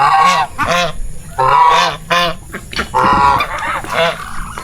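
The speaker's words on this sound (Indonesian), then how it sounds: "Ini dimakan sama bebek." Domestic ducks on a farm plantation in North Kalimantan quack loudly and repeatedly while being fed, a close, clamorous series of honking calls in uneven bursts.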